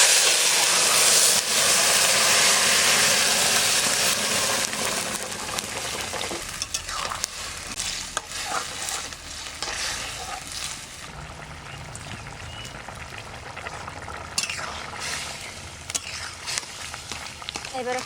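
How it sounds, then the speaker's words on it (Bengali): Nigella seeds temper in hot mustard oil before tender ash gourd greens go in: a loud, bright sizzle and hiss that eases into quieter frying with stirring scrapes and clicks, close by. "এবার ফোড়ন দিচ্ছি সর্ষের তেল, কালো জিরে। এবার শাকটা দিয়ে দিচ্ছি।"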